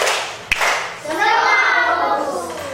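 Fourth-grade children in a classroom do a focus clapping chant: one sharp clap, then children's voices chant together loudly and close, with light hand sounds under the chanting.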